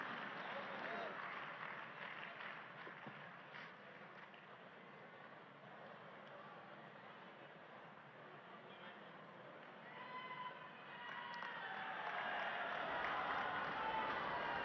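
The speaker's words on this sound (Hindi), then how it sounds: "और तालियों की आवाज के साथ, करतल ध्वनि के साथ" An audience applauds at a ceremony, a sustained patter of clapping from many hands that swells louder toward the end, with crowd murmur underneath.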